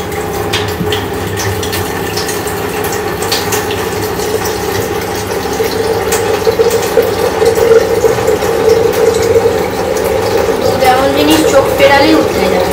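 Water runs into an empty kettle in a home kitchen, a continuous splashing, gurgling pour whose pitch shifts as it fills, heard close under ongoing conversation.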